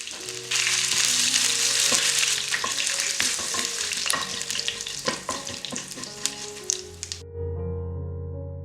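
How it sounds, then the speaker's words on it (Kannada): Mustard seeds, urad dal and curry leaves fry in hot oil in a pan, giving a loud, steady crackling sizzle with sharp pops and spatters throughout, then the frying noise drops suddenly near the end, leaving a low hum. "8 ರಿಂದ 10 ಕರಿಬೇವು ಹಾಕಿ ಹುರಿಯಿರಿ."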